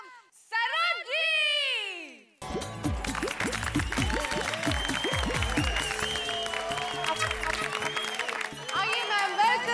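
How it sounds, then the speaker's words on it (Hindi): An audience at an indoor talent show breaks into loud, sustained applause to welcome the judge on stage, following a brief burst of excited voices and music. "जोरदार तालियों के साथ प्लीज वेलकम"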